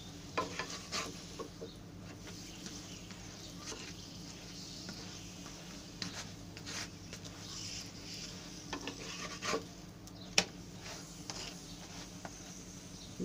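Oil sizzling steadily as a hotel-style paratha fries in a pan, about a large spoonful of oil, with a constant close frying hiss broken by small scraping and rubbing touches, no talking.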